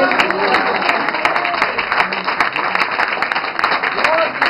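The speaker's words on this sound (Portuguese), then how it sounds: "A igreja glorifique e aplaude a Jesus." A church congregation applauds at a Portuguese-language service, sustained loud clapping and crowd noise filling the room while a preacher's voice carries over it.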